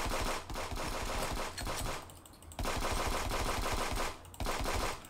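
Gunshots in the online shooter game Friends vs Friends come as dense, rapid bursts of sharp cracks that run nearly nonstop, briefly pause, then resume. The fire is fairly quiet and there is no speech.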